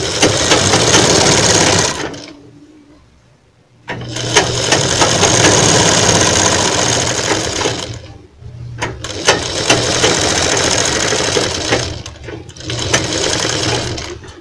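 Kurti fabric is stitched on a sewing machine in loud, close bursts of steady mechanical whirring, each lasting a few seconds and separated by brief silent pauses.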